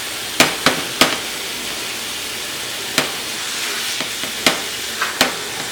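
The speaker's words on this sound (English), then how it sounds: "So as you hear it cooking a little bit, just try to keep trying to break it down a little bit." Food for a casserole sizzles steadily as it cooks in a pan, with a constant frying hiss and several sharp clicks and taps as a spatula breaks it down, close and clear without talk.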